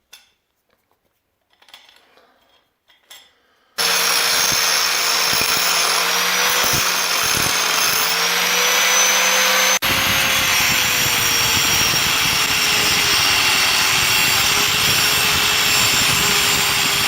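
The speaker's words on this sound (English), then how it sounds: "cut into these with an angle grinder, cut them off" Angle grinder cutting off metal fixings in a home gym, a loud continuous high whine with a droning tone that runs without a break for over ten seconds, after a few quiet knocks.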